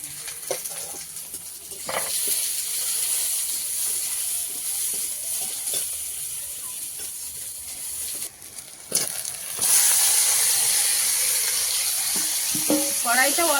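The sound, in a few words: spiced meat frying with onion and garlic in a wok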